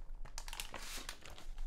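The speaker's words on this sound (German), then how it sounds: "ich werde hier direkt mal ein Heftchen aus der Tüte ziehen" A small paper booklet is drawn from a crinkly plastic Lego mystery bag, giving a close, brief burst of crackling and rustling with several sharp crinkles and no voices.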